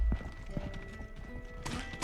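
Hooves of a mini horse clip-clop in the medieval video game Rustler, a quick uneven patter of light steps at close range over a busy game soundscape, without speech.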